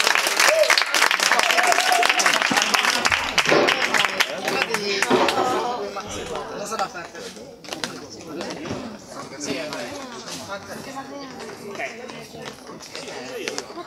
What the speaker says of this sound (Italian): forti gli applausi signori per la gonna